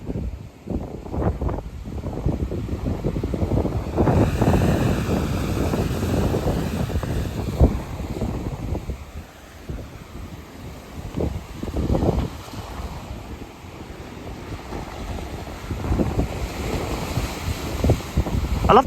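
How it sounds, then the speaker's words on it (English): Strong westerly wind on the Cornish coast buffeting the microphone in heavy, uneven gusts, with a rushing roar that swells and fades, close and loud, no talking. "Very windy, but there is like a westerly wind."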